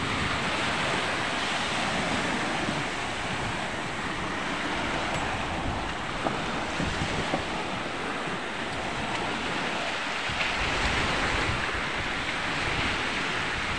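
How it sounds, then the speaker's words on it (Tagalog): Powerful surf crashing continuously, a dense roar of breaking ocean waves with wind buffeting the microphone throughout. "Sobrang lakas ng alon."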